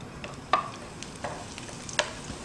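Green onion stir-frying in a pan for shrimp fried rice makes a soft, low sizzle punctuated by a few sharp scrapes and taps of a utensil, close and fairly quiet.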